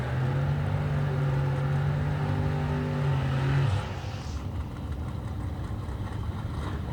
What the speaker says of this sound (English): It's Kevin Boring with the dragster.